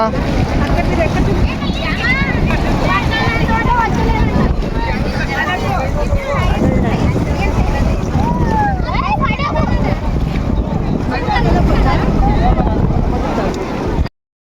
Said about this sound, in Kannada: ತುಂಬ ಅಂದರೆ ತುಂಬ ತುಂಬ ನೀರು ಹರಿತಾ ಇದೆ